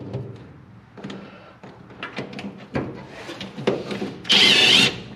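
A power tool whines loudly for about half a second near the end, after scattered clunks and handling noises of work on a hard surface, while fitting new brake lines to a 1966 Chevy C10 truck.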